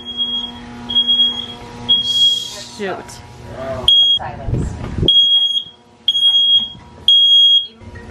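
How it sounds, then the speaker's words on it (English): A kitchen smoke alarm, set off by smoke from cooking pasta carbonara, sounds in loud, close, evenly repeating shrill beeps, with voices talking over and between them. "The alarm is on."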